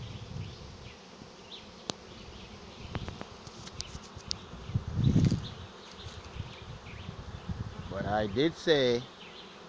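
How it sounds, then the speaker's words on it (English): A honey bee swarm moving into a swarm trap fills the air with a dense, steady buzzing hum, with individual bees droning past and a few spoken words near the end. "it wasn't a huge swarm, but it's a nice size swarm"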